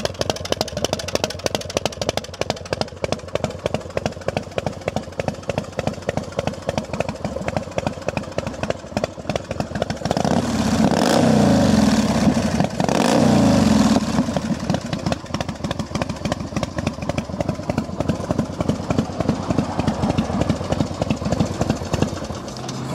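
A 2006 Saxon Sceptre Softail Pro Street motorcycle engine runs steadily close by with a rapid, even idle throb, swelling briefly louder in the middle as the throttle rises before settling back to idle, with no talk.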